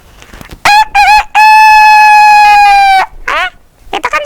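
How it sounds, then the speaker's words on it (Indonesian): A chicken crowing sound effect plays loud and close: short clucking bursts, then one long sustained cock-a-doodle-doo, followed by more brief calls. "Bukan, itu kan suara ayam"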